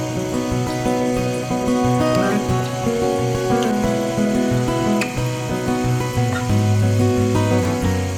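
Water runs steadily over skin while an avocado sea salt scrub is rinsed off, a continuous close splashing and pattering with a faint hum underneath and no one speaking.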